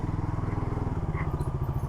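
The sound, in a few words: motorcycle passing by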